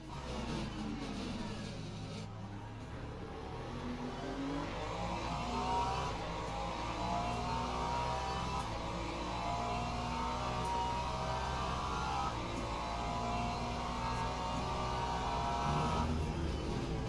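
A sky blue Mustang race car roars through an endurance race in Le Mans Ultimate, its engine a steady, loud drone with shifting revs that rise and fall throughout, alone with no talk.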